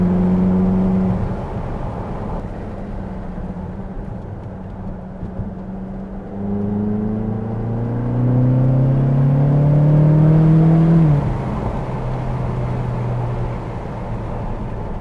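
A sports car engine revving in neutral: the engine climbs and falls through a few rises, with a sustained higher surge near the end before it settles back to idle, loud and close, no voices.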